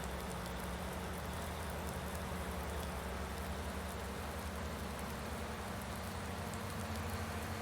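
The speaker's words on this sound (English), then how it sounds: "Yeah, we're mowing in the rain." Steady, dense rain hisses without a break in a farming simulator game, a constant wash of patter with a faint low hum underneath and no one speaking.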